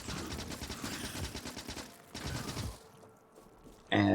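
Gun turrets rattling off rapid automatic bursts in the modded factory-building game Factorio, dense fire for about three seconds, then a quiet gap and a sudden loud burst at the end.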